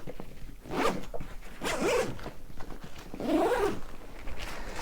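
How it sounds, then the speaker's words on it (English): A backpack zipper is pulled open in several long, rasping strokes, close to the microphone, with small rustles of fabric in between. "I'm going to go ahead and unzip it as soon as I find my zipper here."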